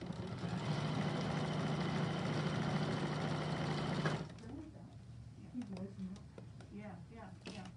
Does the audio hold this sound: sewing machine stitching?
yes